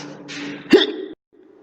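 A single short hiccup in a storybook scene, voiced for a hippopotamus character; a voice imitates the sound with one sharp gulping catch, loud and close, in a brief moment after a breathy vocal lead-in.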